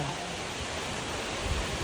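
Heavy rain pours in a steady, dense hiss that never lets up, loud and close, with no voices.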